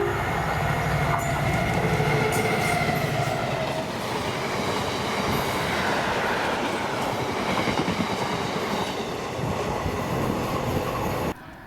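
A rail freight service led by locomotive 7813 rolls past at Monifeith, a loud continuous rumble with rhythmic wheel clatter over the joints that holds steady before cutting off abruptly near the end.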